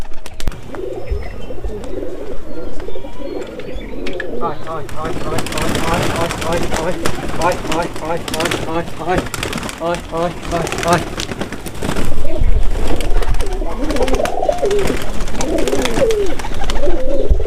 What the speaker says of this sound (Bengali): আমাদের খোপের সব কবুতর বাইরে ছেড়ে দিয়েছি